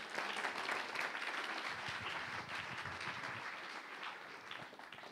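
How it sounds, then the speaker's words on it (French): A church congregation applauds during a Pentecostal sermon on the outpouring of the Holy Spirit, a steady, dense wash of many hands clapping that holds for the whole stretch, with faint voices underneath. "On l'applaudit pour l'encourager."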